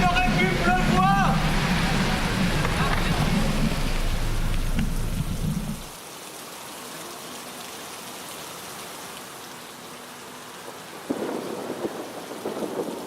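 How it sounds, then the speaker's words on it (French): Steady rain hisses and patters close by at a campground in Tende, with rumbling in the first few seconds and voices talking over the downpour. "forcément il pleut"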